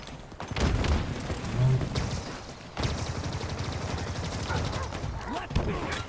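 Weapon fire in Halo Infinite during an ambush, a loud burst of shots in the first seconds and then a dense, steady run of firing with sharp impacts, mixed with game sounds.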